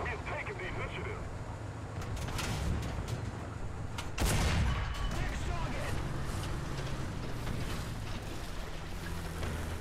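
IS-1 Soviet heavy tank firing its main gun in War Thunder, a single loud blast near the middle over steady engine rumble and ambient battlefield noise.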